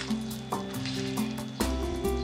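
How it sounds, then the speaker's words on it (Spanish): Beans frying in a pan while a spatula stirs them constantly, a close, steady sizzle broken by a few sharp scrapes and clanks of the utensil against the pan. "voy a continuar trabajando con una pala o espátula, moviendo constantemente para que se vayan secando"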